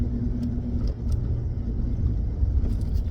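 Steady road rumble and engine hum from inside a moving car, continuous and even, with no voices.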